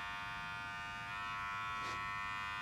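Hair clippers with the lever set at 1.5 buzz steadily and close during a barber's haircut, with a brief brighter swell near the end as the blades pass through hair.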